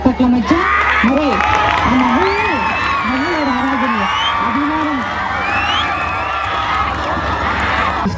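A school audience cheers and shouts continuously with whoops and claps, loud and close, while a voice talks and exclaims over the crowd noise throughout.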